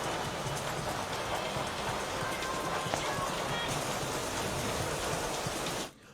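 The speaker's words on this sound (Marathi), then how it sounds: "भुयेवाडी या परिसरात ढगफुटी सदृश्य पाऊस झाला" Cloudburst-like heavy rain falls in the Bhuyewadi area, where water floods the roads, making a dense, steady roar of rain that continues until it cuts off abruptly near the end.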